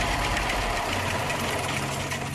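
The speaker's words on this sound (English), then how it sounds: "Clark belt sander" A Clark belt sander in a home workshop runs with a loud, steady, broadband whir and rumble, continuous and close with no pauses.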